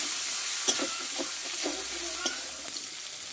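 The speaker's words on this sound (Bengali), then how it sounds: "দিয়ে একসঙ্গে ভালো করে মশলাটা কষে নেব।" Turmeric, coriander and cumin powders are sautéed in a pan for a potato and long bean curry, a close sizzle broken by a series of quick scraping and clinking stirs.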